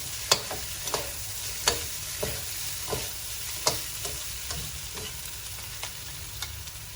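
Stir-fried beetroot sizzles in a pan while it is tossed, giving a steady hiss broken by a dozen or so sharp clinks and scrapes at irregular intervals, close up with no talk.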